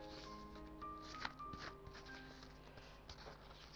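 Crepe paper strip being folded over twice by hand, with soft crinkling and rustling close up, a few sharper crackles in the middle, then quieter handling noises; no talking.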